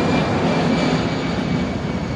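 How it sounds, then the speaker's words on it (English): An aeroplane flies overhead above a condo building in Chiang Mai, Thailand, giving a steady, loud, broad jet roar that holds evenly throughout, with no voices. "because the aeroplane just went over and I had to keep quiet"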